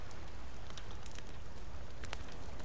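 A fire crackles in the survival video game The Forest, a faint, dense hiss with scattered small pops and snaps, steady throughout and heard alone.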